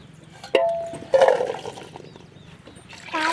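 Water poured out of a vessel in a village kitchen while preparing turkey berry curry, two short splashing bursts followed by faint trickling, fairly close.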